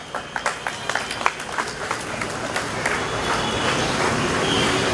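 Audience applause during a religious speech in Kannur, a burst of scattered hand claps from a crowd, loudest at first and then thinning into a steady murmur of clapping and room noise.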